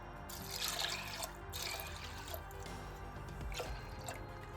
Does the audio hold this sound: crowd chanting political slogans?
no